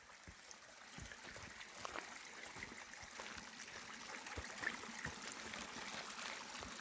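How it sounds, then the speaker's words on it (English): Crystal clear mountain stream gurgling along a moist, mushroom-dotted trail, a faint, steady trickle with small irregular splashes and drips, heard alone. "What a relaxing little gurgling sound. Crystal clear mountain water, man."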